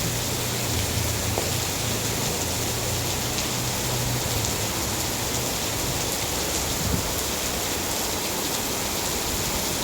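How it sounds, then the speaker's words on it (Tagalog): Heavy rain pours down steadily on a dark day, a dense, unbroken hiss of falling water that stays loud and even throughout, with no voices. "Grabe yung ulan, ang dilim."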